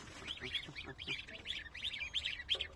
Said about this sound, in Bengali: এগুলো হলো একটা হাঁসের বাচ্চা এখানে ছয়টা আছে